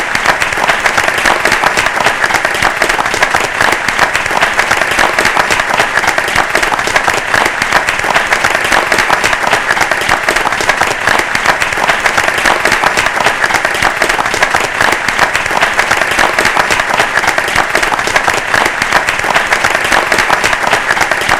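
An audience at an international award ceremony in Pamplona applauds with loud, dense, sustained clapping that holds steady throughout.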